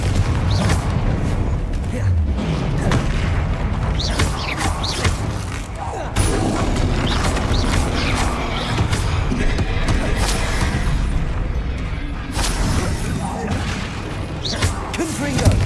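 Confringo fire spell explosions in Hogwarts Legacy thud and boom repeatedly amid loud, busy combat noise, with heavy impacts landing every few seconds.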